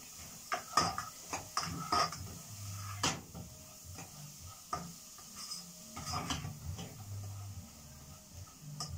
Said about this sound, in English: Continue to stir it on low heat.